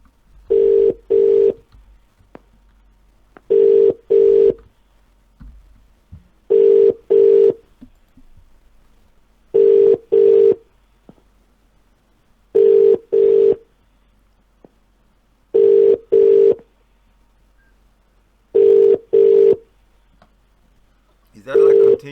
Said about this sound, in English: Is that like continuous ringing I hear